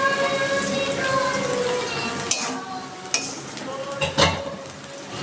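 Cumin seeds and torn bay leaf pieces sizzle steadily in hot oil at close range, with a few sharp crackles and spatters standing out above the frying.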